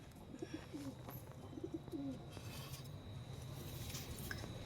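Pigeons of a fancy breed kept for sale coo in low, soft repeated phrases at close range, steady under a dense background murmur, with no talk.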